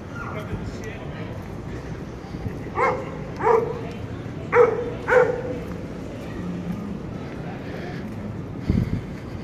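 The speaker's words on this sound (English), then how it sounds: "Oh, and I see another dog up the way." Out on Rue St Jean in Quebec City, a dog gives several short barks and yips in a loose cluster at moderate distance, over steady street ambience and wind.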